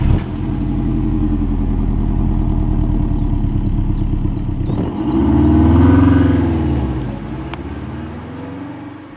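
A 1998 Subaru Impreza GT Turbo's 2-liter four-cylinder engine runs loudly nearby, holding a steady rumble before revving up and then easing back down.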